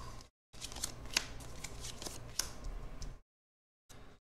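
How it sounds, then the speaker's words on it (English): Playing cards riffled and shuffled into an encounter deck for a Marvel Champions card game, a close crisp flutter of snapping cards in two bursts separated by short pauses. "Shuffle the high treachery into the encounter."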